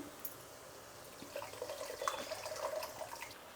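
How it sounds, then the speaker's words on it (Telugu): Soft, steady trickle of water splashing into a pan of raw tamarind soup, quiet and close, with faint clinks and no talking. "ఇప్పుడు నీళ్ళు వేసుకుందాము."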